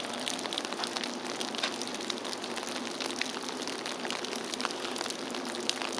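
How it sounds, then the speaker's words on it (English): Heavy rain pouring onto an umbrella on a rainy Saturday at Olympic Park in Seoul, a dense steady patter that stays loud and close with no pauses or talking. "It sounds like it's coming down harder."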